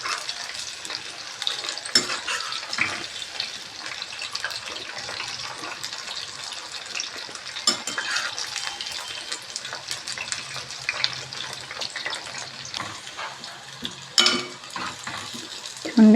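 Baby corn pieces frying in hot oil until golden brown, a steady, dense bubbling sizzle that continues throughout with occasional louder crackles and pops, no voices.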